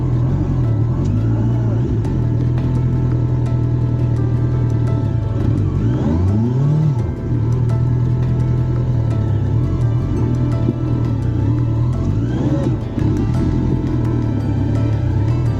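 A motorcycle engine stuck in mud in a Kenyan village revs hard and continuously, a loud close drone that rises and dips as the throttle is worked, with brief surges in pitch.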